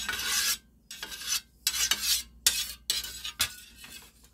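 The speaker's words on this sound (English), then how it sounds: "Get out my favorite spatula, the big long one, okay? And spread that around" Big long spatula scraping and spreading raw mashed potatoes across a skillet in repeated rasping strokes, close and fairly loud, with short pauses between passes.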